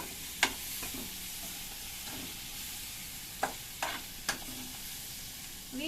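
Onions sautéing in a pan for a home-cooked greens stir-fry, a soft steady sizzle with a few sharp utensil scrapes and clinks spaced through, close by with no talking.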